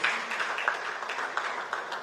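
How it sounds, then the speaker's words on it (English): Audience applause at a formal event as the World Bank Country Manager is called to the high table, a steady wash of clapping from a crowd held at an even level for the whole stretch. "Can we give him a round of applause for the people?"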